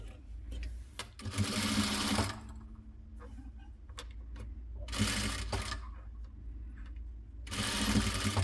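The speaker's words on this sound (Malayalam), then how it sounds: "സ്ലോവിൽ വേണം സ്റ്റിച്ച് ചെയ്തെടുക്കാൻ." Sewing machine stitching lace onto the round neckline of a nightie, running in three slow bursts of steady whirring with quiet pauses between them and no voices.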